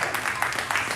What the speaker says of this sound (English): Let's give them all a nice round of applause